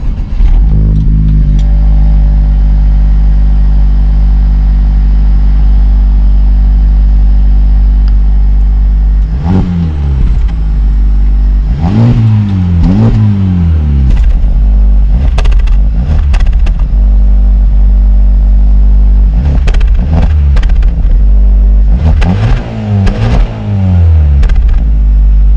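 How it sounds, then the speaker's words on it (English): Honda Civic Type R engines starting and revving, a loud steady idle broken by several sharp rising-and-falling revs in pairs and clusters, close by. "So actually let's start this car, well these cars, so that you can hear what these cars sound like."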